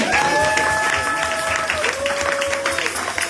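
A church congregation claps and cheers in praise, a continuous wash of applause with voices calling out over it and a sustained singing or musical tone running through.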